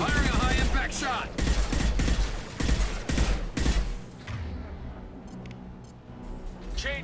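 A high-impact shot and rapid weapon fire in a video game: a dense burst of sharp repeated gunshots, loud and close, cutting off abruptly into quieter ambience, with a voice speaking briefly.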